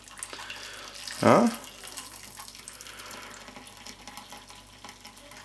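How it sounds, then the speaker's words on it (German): Boiling water poured into a bowl to clean a whipped cream dispenser: a short, loud gush of splashing water over a steady low room hum, with a brief spoken word. "ich habe hier schon kochendes Wasser vorbereitet und fülle die Schale einfach mit kochendem Wasser"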